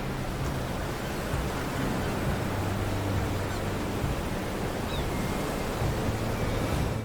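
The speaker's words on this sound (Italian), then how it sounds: "Il suono delle cascate svanisce lentamente, finché resta solo il vento." Rushing water of the Hraunfossar waterfalls in Iceland, with wind, forms a steady, dense roar that stays loud and unbroken throughout with no voices.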